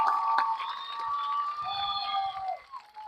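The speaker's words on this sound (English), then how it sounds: "So big round of applause to Blaze and what you've built" A crowd at the Blaze Jamboree cheers loudly with sustained whooping shouts and a scatter of claps, close and lively, fading out after about three seconds.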